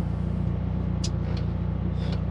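A 1996 Peugeot 106 1.6 S16 GTI drives at a relaxed pace, a steady low engine drone and road rumble heard from inside, with a few brief faint high squeaks.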